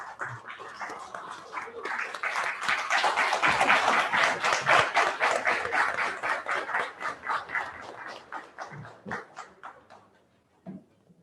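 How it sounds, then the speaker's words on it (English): An audience applauds the CEO in a rising round of clapping that peaks and then thins into scattered claps before fading out. "Let's give him another round of applause."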